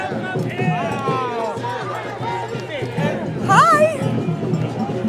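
Crowd at a New York street rally protesting ICE, a steady murmur of many voices and distant shouts with scattered cheers swelling near the end, close talk from people nearby over the din.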